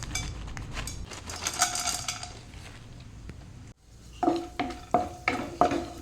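Sunflower seeds fry and rattle in a pan, a steady sizzle with scraping and clinking from stirring, then after a short break a series of sharp metallic taps and scrapes against the pan.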